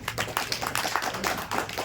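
A crowd claps enthusiastically at a poetry gathering, a dense, steady burst of applause throughout.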